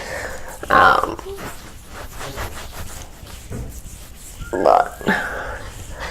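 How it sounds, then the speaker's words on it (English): Dogs indoors give short grunting, snuffling vocalizations in two close bursts, near and fairly loud, with a quiet room between them. "Oh, my doggies are in here."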